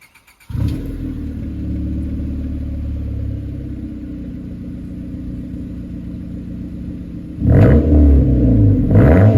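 A lowered 100 HP Honda Civic with blast pipes fires up into a steady, loud exhaust rumble at idle, then near the end is revved sharply into a louder, raspier surge.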